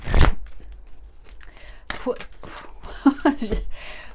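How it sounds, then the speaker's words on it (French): Cards from a light oracle deck are shuffled and drawn, giving brief close riffles and rustling bursts between stretches of quiet speech. "On va prendre une carte des cartes de lumière."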